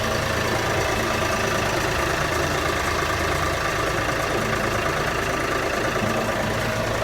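A marine boat engine idles steadily, a continuous close rumble with a mechanical rattle and no letup.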